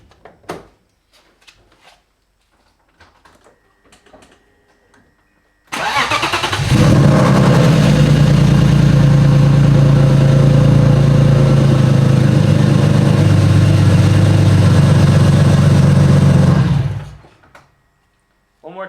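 A BMW E36 engine on a lightweight budget battery cranks briefly and catches, then runs loud and close for about ten seconds before shutting off, with faint sounds before it starts.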